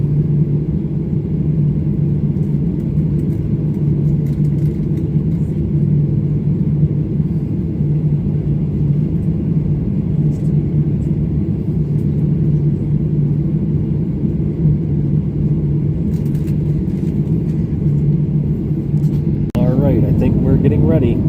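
Inside an Avelo Airlines airliner as it begins to roll for takeoff, a constant low engine rumble fills the cabin, steady and dense, with a brief burst of other noise near the end.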